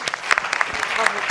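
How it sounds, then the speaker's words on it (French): Audience clapping at an eloquence competition final in Paris for the first-prize winner, a brief burst of close, dense applause with a voice speaking over it. "c'est Anne qui a reçu le premier prix et on l'applaudit très fort"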